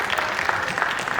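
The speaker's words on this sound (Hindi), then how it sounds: "उनके लिए भी जोरदार तालियां।" Theatre audience applauding at a Hindi stage play during a Patna drama festival, a brief burst of scattered hand claps, fairly even and moderately loud, with no voices.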